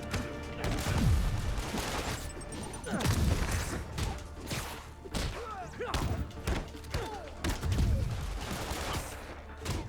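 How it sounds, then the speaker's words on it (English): Enemy gunfire in a Spider-Man video game, with repeated bursts of shots and thuds coming in clusters amid mechanical clatter and impacts. "Always with the shooting."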